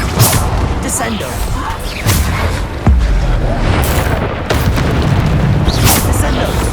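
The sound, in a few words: Descendo spell impact in video game Hogwarts Legacy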